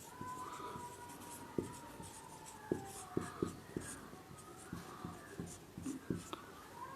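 Chalk or marker scratching and tapping on a board during a chemistry lecture, quiet irregular strokes in short runs with a faint tonal hum underneath.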